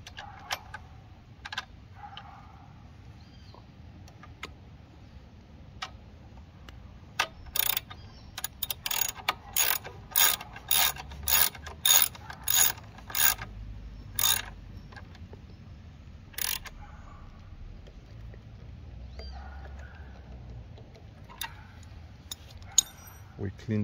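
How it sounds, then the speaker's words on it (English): Ratchet tightening bolts while fitting a Talaria Sting electronic pedal assist kit, a quick run of sharp, evenly spaced clicks in the middle with scattered ticks and handling noise around it, close and moderately loud. "Then we use our ratchet."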